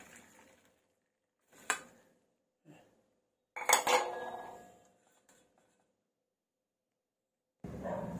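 Sparse metal clatters of kitchen utensils and a sieve while boiled cauliflower is drained for a dry cauliflower-and-pea curry, a few sharp clanks with quiet gaps between.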